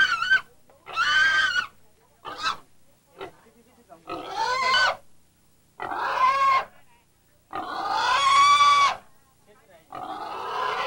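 A pig is brought out at an old-style Vietnamese wedding from 1990 and squeals and grunts in loud repeated bursts. The cries go on for about ten seconds with short pauses between them, and voices talk around it.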